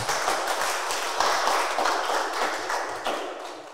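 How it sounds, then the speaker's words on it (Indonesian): Students applaud a classmate who has just given a talk on Ramadan at school, a brisk group clapping with uneven bursts, close and fairly loud for a few seconds. "Tepuk tangan dong buat Mas Ilham"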